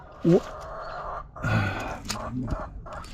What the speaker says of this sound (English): I'll just talk over the hens.